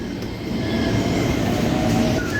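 Steady rumbling roar of a KRL electric commuter train in Indonesia in motion, with faint wheel hum and occasional high squeal, continuous and fairly close.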